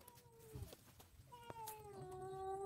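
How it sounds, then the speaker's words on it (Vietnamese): A cat, referred to as a lynx, in a mountain forest lets out a couple of clear, drawn-out meows, the second longer and stronger, with faint outdoor background noise. "Linh miêu bạn, mèo bạn ơi."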